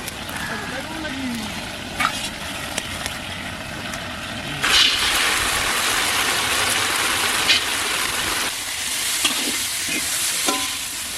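Whole cumin seeds and dry red chillies fry in mustard oil with a steady, close hiss and sizzle, scattered with small pops and crackles, while a voice talks over it.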